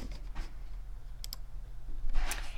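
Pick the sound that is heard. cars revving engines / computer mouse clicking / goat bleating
computer mouse clicking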